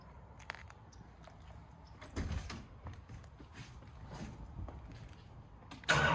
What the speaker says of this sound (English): the door closes right up